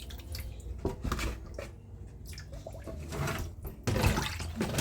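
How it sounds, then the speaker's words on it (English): Water trickles and splashes steadily from a pipe, an uneven running flow with occasional louder gushes, no voices. "The pipe is not really running, but at least it is running."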